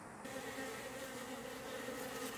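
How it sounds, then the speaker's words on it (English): Honey bees feeding on honeycomb on a board make a faint, steady buzzing hum, a close continuous drone with no talk. "I'll let the bees clean it up, because they're going to bring all of that honey back home and put it to good use."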